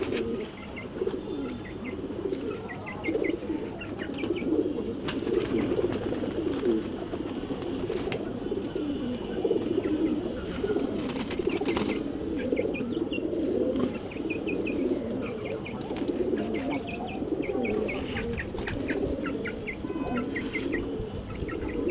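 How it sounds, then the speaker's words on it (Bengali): Pigeons, including a young one bought at a market, coo in repeated soft throaty phrases close by, with occasional wing flaps and clucking amid a busy loft, continuing throughout. "এই একটা হাটে থেকে কিনা একটা বাচ্চা কবুতর"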